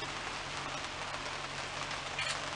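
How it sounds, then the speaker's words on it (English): Steady rain falls in a broad, even hiss throughout, close and moderately loud, with no talk over it. "Even though it's raining, it's okay?"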